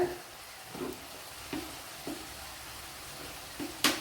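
Coriander powder fries in a pan with kovakka (ivy gourd), a low steady sizzle with a few soft scraping stirs and a sharper clatter near the end.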